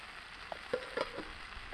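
Steak and potatoes searing in a skillet make a soft, steady sizzle, quiet and close, with a few faint pops and no talk.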